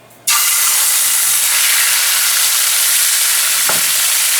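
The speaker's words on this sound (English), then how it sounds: "So what I'm gonna do, I'm gonna sear my pork loin." Pork tenderloin searing in hot high-heat vegetable oil, a sudden loud burst of sizzling as the meat hits the pan, then a sustained close hiss and crackle with one brief clunk partway through.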